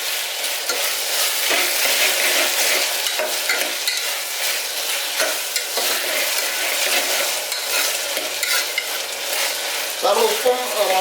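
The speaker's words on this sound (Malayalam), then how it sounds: "ഇളക്കി കൊടുത്തിട്ട് വേണം നമുക്ക്." Kohlrabi and potato curry with tomato is stirred in a pan of hot oil, giving a dense, continuous sizzle broken by repeated scrapes and clinks of the spoon, loud and close throughout.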